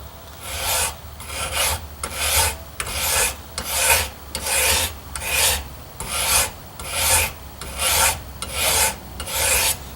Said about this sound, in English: File a little bit, check it, flip it, file a little bit, check it.